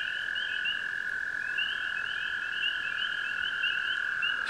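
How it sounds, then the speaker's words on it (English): A chorus of spring peepers calls with repeated high peeps over the steady, continuous trill of a northern toad, both carrying on without pause at a moderate distance in an outdoor wetland setting. "You hear the peep, peep, peep in the background. That's a spring peeper."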